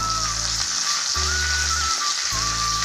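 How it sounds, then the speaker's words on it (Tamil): Ginger, garlic and curry leaves sauté in a pan for chapati noodles, a loud continuous sizzle with a faint steady tone and low hum running underneath. "இஞ்சி பூண்டுலாம் நல்லா வதங்கிடுச்சு இப்போ வந்து கருவேப்பிலை கொஞ்சம் சேர்த்துக்கிறாங்க"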